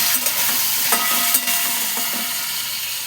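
Potatoes fry in a pan to brown, producing a steady close sizzle with a few light stirring taps.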